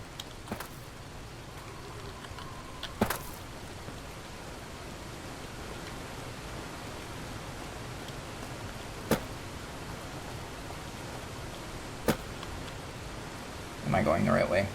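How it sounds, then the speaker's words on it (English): Steady rain hiss in the video game Fallout: New Vegas Honest Hearts, an even broadband wash running throughout with a few sharp clicks scattered over it and a brief busier patch at the end. "Gotta love the PNG rain."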